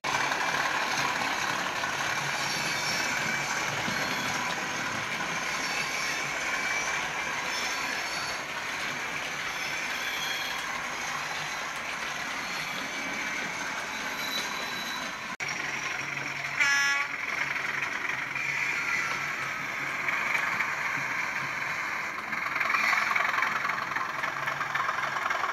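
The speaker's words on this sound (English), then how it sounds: "Can you hear the brakes and it'll start moving any second?" A Bachmann 32-393DS model locomotive gives off a continuous mechanical whir and hiss, with a short ratcheting, clicking burst partway through, steady and fairly quiet with no talk.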